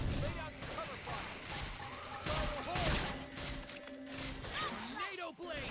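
Gunfire from cover fire in the video game Xenoblade Chronicles X, rapid bursts and crashing impacts layered with battle effects and music, fairly dense throughout with voices talking over the action.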